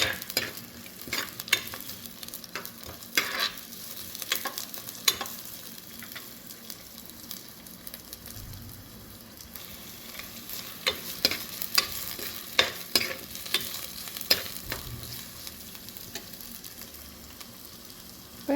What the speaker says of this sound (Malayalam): എല്ലാം കൂടെ ഒന്ന് വഴറ്റിയെടുക്കാൻ പോവുകയാണ്.